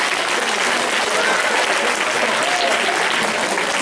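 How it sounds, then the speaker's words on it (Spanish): Steady applause from a school gathering of staff and pupils, dense and continuous clapping filling the room at close range for the whole stretch, with no speech over it. "¡Un aplauso para ustedes!"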